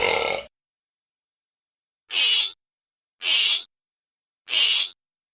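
A baby cries during a horror-movie podcast recording, producing three short, sharp, fairly loud wails spaced about a second apart, with a brief sound before them and silence in between.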